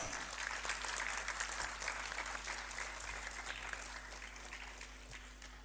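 An audience at a talent hunt program at the Arts Council in Karachi, Pakistan, claps to welcome a guest to the stage. Dense, sustained applause fills the hall, starting strong and tapering slightly toward the end.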